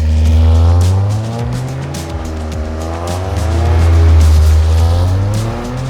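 A 2025 Toyota GR Corolla with turbo AWD and an automatic transmission doing a launch control start, its engine holding a loud, droning rev with rising and falling harmonics and faint tire noise, close and steady.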